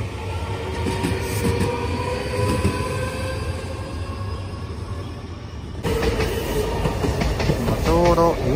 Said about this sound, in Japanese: 南海線普通電車が通過してきましたね。